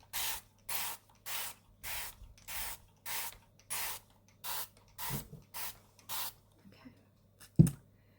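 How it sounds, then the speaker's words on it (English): Pump spray bottle misting watercolour paints on a palette, about eleven short even hissing bursts in a steady rhythm, close and fairly loud, then a quiet pause and one sharp knock near the end. "Let's give my paints a spray."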